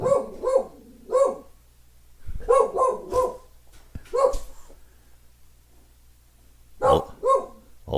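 A small dog barks in short bursts of two or three sharp yips, separated by quiet gaps, fairly close and loud with no talking over it.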